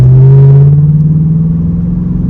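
A tuned Camaro SS V8 rumbles steadily and close by during a U-turn, its deep low tone holding with a slight rise in pitch as the throttle eases on, with no talk over it.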